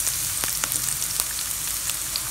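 Onions sizzle and fry steadily in a hot pan for pork binagoongan, a dense continuous crackle with small pops, close and alone.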